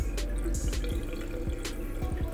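Water trickles slowly from an undergravel filter backwash in a turtle pond, producing quiet irregular drips and small splashes close by.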